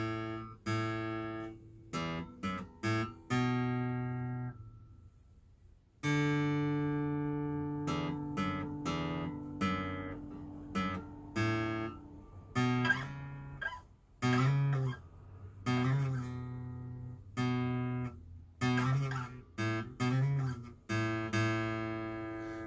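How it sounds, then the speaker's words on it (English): Teton STG105NT acoustic guitar played alone, close and clear, with a series of plucked notes and strummed chords that ring out with long sustain between attacks. "this is a very solid made guitar and it has a really good sound"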